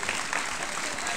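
An audience at a hypnosis comedy show claps in a short, continuous burst, a fairly faint, even patter of many hands.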